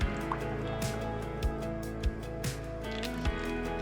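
Cooking oil, a glass and a half, is poured while making lecho, giving close wet drips and irregular liquid splashes over a dense, busy background.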